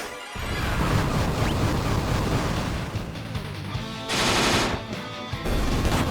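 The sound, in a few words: heavy artillery fire in Final Fantasy III Pixel Remaster video game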